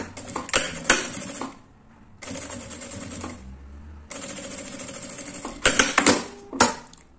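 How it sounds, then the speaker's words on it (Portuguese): A sewing machine stitches fabric trim onto a small bag in several short bursts of rapid mechanical clatter. The bursts are separated by brief pauses, with sharper clicks near the end. "Já tá com o acabamento virado aqui pra trás e já passo uma costura com um pé de máquina."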